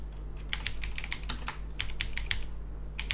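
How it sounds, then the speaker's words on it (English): Steady bursts of typing on a computer keyboard as a command with a capital N is entered, with close, crisp key clicks in uneven clusters over a low constant hum. "type the capital N and hit the enter"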